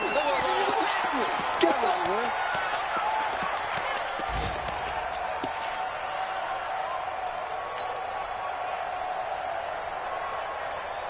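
A stadium crowd roars steadily in a PS4 video game football broadcast, a broad continuous swell that rises slightly with a few sharp thumps, running beneath a commentator's voice.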